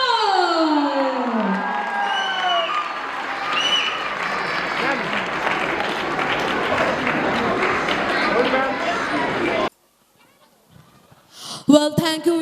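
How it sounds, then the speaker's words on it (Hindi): A school audience at Labonya Public School bursts into sustained applause and cheering, a dense roar of clapping and shouts that cuts off abruptly, followed by near silence and a brief voice speaking. "Please give a huge round of applause for Mr. Anand Thakur, everybody."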